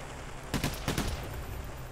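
Gunfire in the heist shooter Payday: The Heist, a quick burst of a few distant shots over a steady background hum, fairly faint and short.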